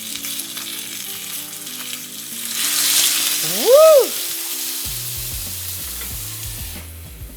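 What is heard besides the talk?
dumplings sizzling in a pan as water is added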